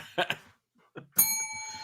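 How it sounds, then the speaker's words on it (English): A single bright bell ding rings out and sustains after short bursts of speech, clear and close, its tone ringing on to the end. "Hit the bell."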